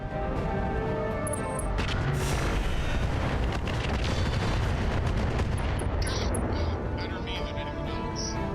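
Rockets and explosions from a mech in the BattleTech game (RogueTech mod), a dense and loud barrage of booming blasts and gunfire-like bursts that runs unbroken throughout.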